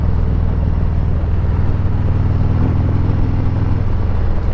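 Can-Am Spyder three-wheeler engine while riding down a road, a steady low droning rumble at constant speed with wind buffeting the microphone, continuous and close throughout.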